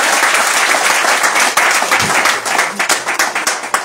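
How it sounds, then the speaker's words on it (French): Dense, loud applause from a crowd welcoming a sub-prefect at a village reception in Roa, Ivory Coast, with clapping steady throughout and thinning slightly toward the end. "on acclame encore monsieur le sous-préfet"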